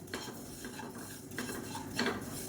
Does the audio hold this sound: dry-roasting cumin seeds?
yes